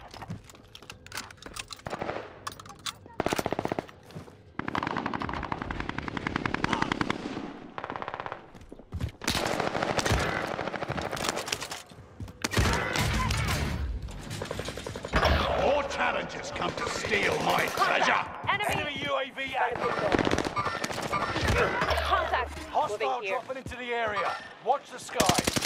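Call of Duty: Modern Warfare gunfire rattles in loud, rapid automatic bursts and scattered single shots, interrupted by short pauses and accompanied by game effects and a voice speaking.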